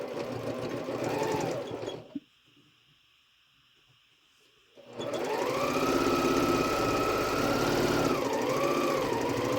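Sewing machine stitching together pieces of a Churn Dash quilt block, a fast steady mechanical whirr that stops for a few seconds of near quiet, then starts again with a brief pitch dip.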